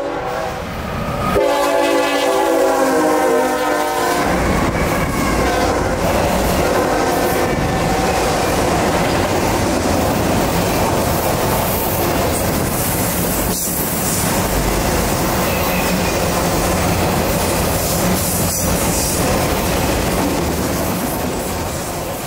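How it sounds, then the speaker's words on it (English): Norfolk Southern NS215, a Chicago-to-Atlanta intermodal freight, sounds a loud horn blast near the old depot, then thunders past close by in a long steady roar of wheels and cars. "NS215 was calling signals north of us, and was thundering by the old depot in minutes."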